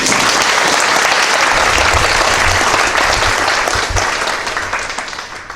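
A church congregation applauds at a pastor's installation service: loud, full clapping throughout, with a low rumble underneath, tapering slightly toward the end.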